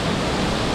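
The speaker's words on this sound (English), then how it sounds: "There is a like one main nature attraction, which is the waterfall, and I guess the gorge." A waterfall in the Austrian countryside roars as a steady, dense wash of rushing water, heard close and loud with no voices.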